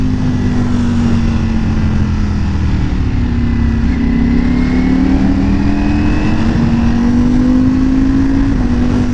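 A Ducati Panigale V4S motorcycle engine revs high in the range while the bike is being ridden, giving a loud, steady drone whose pitch rises and falls smoothly, heard close up with no talking.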